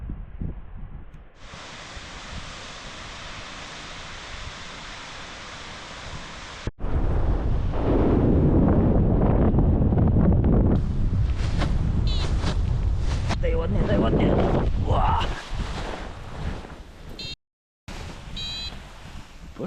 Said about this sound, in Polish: Paskudny wiatr przy północy tutaj wjeżdża już